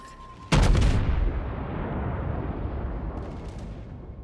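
A heavy naval artillery salvo from the Scharnhorst battleship in World of Warships booms out loud and close, one sharp blast followed by a long rumbling roar that slowly fades.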